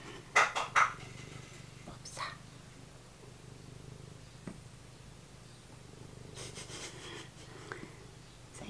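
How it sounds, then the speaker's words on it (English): A cat purring steadily close by, a soft continuous low rumble running through the whole stretch, with a few sharp clinks near the start and faint, indistinct voices in the room. "If they can hear this above the cat purring."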